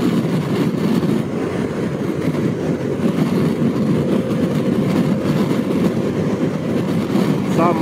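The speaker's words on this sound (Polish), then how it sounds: "Sam huk tego silnika jest chyba większy." Harley-Davidson Pan America 1250 motorcycle engine roars steadily while riding, a loud continuous low rumble mixed with wind noise at the helmet, with no pauses.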